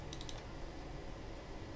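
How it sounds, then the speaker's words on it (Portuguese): A computer mouse clicks to open a program, with a quick run of about three faint, light clicks near the start, followed by quiet room hiss. "Eu vou clicar de novo para abrir."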